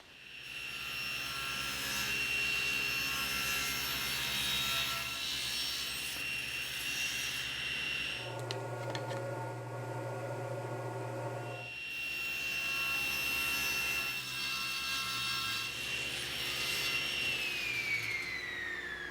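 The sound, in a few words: sawing a taper on wooden bench legs with a tapering jig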